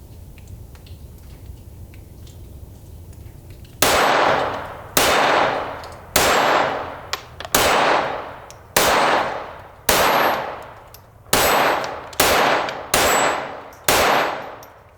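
A Glock 44 .22 LR pistol fires a magazine one-handed: ten sharp, ringing shots in a steady, evenly spaced rhythm, loud and close, after a quiet lead-in.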